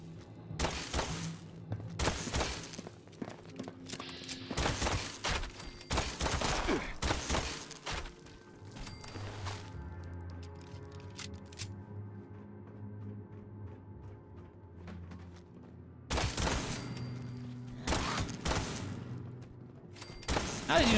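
Bursts of gunfire in Fallout 76, several loud rapid volleys separated by quieter gaps with low thuds and background hum, people talking faintly at times.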